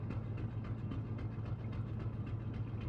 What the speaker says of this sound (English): It's probably chugging of machinery because it's a steamship